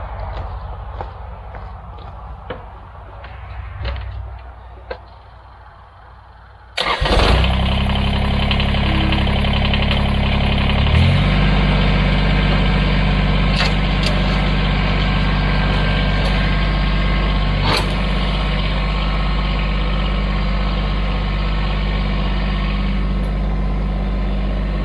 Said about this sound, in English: we're going to drive the tractor forward so that the forks aren't rubbing